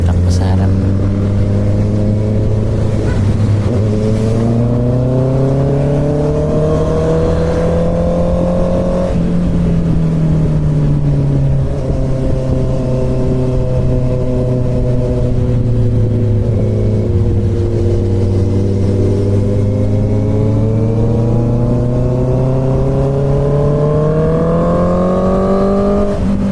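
A Honda CB650R inline-four motorcycle ridden at night on dark mountain curves, engine droning loud and close throughout, pitch rising and falling smoothly through acceleration and easing, with wind rush and a rider talking over it.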